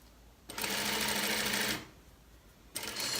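A sewing machine stitching a seam on a dress with bias-cut parts, running in a steady close whir for about a second, pausing, then starting up again.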